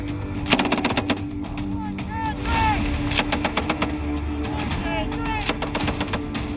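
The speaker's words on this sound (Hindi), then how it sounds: "ताबड़तोड़ गोलियां चली और नॉनस्टॉप आग बरसाते गोले दिखाई दिए।" Military gunfire and shelling ring out during an army war training exercise, with rapid machine-gun bursts and heavy booming blasts firing continuously, loud and dense, under some talk.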